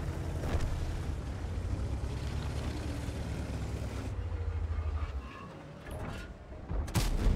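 A Bofors Tornvagn tank in the game World of Tanks, heard as a dense, continuous engine and battle rumble that dips briefly, then ends in a sharp cannon blast near the close.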